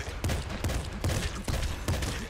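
Assault rifle fire in the roguelike shooter Nuclear Throne crackles in rapid repeated bursts of loud, punchy game shots, nearly continuous over the whole stretch.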